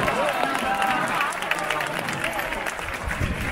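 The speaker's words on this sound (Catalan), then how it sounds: "El Joan Trabal, vinga, va, aplaudiu-lo i amunt va!" A crowd at an outdoor Sant Sebastià Sunday festival applauds steadily for a man climbing with spurs on his feet, a dense wash of clapping throughout while a voice speaks over it.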